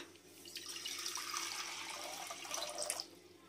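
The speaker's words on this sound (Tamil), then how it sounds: "இப்போ தண்ணி இதுக்கு தேவையான தண்ணி ஊற்றிக்கலாம்" Water pours steadily into a pot for a few seconds, a continuous splashing rush, close by, with no talking.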